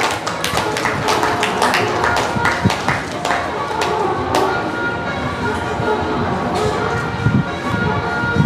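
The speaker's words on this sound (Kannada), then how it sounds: "ಜೋರಾಗಿ ಚಪ್ಪಾಳೆ" Loud, dense applause sounds from an audience at a Kannada literary conference and felicitation ceremony, with a busy patter of hands that stays strong throughout, interspersed with sharp individual claps and thumps.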